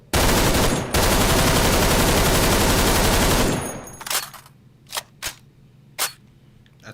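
Assault rifle gunfire from Left 4 Dead 2 rattles in a loud, dense, continuous automatic burst with a short gap, then tapers off into a few separate sharp shots.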